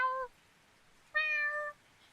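Two meows, the first short and the second longer after a pause, close and clear against near silence. A person imitating a cat may be making them.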